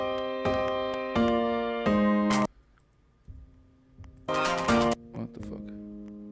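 Electronic piano plugin phrase with extra EQ applied, heard alone as sustained chord hits with sharp bright attacks, a brief near-silent gap, then a dense louder cluster and softer trailing notes.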